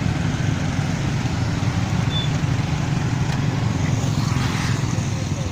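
Constant night traffic rumble at a busy road intersection, cars and motorcycles idling and passing close by in a steady low drone with no pauses.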